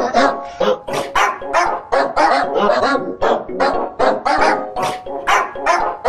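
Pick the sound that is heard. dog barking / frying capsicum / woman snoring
dog barking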